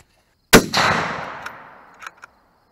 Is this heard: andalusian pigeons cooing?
no